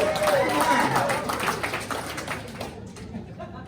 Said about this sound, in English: That's the shortest applause ever.